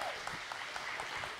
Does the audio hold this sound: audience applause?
yes